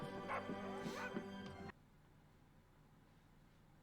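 A dog barks and yips a few times in a garden, short sharp calls over a steady background hum before the sound drops away abruptly.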